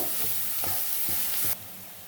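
Spices including turmeric, cumin and coriander are stir-fried for a fish curry, with a close sizzle and several rhythmic spatula scrapes before the sound suddenly drops away.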